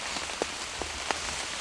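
Rain falling during a wet elk hunt in Washington, a steady soft patter with a few sharper drops standing out, no voices.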